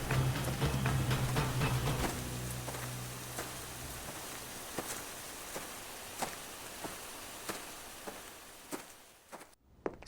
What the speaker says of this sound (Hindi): जोरदार बारिश होने लगी।